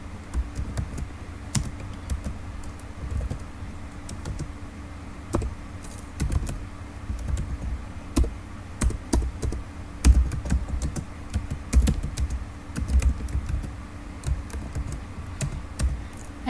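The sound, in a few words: typing HTML code on computer keyboard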